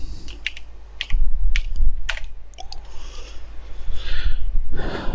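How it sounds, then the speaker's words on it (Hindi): Computer keyboard typing while repairing a dead laptop motherboard, a loud close burst of rapid clicking keystrokes with some breathing, no talk. "यहाँ पर हमें टाइप करना होगा"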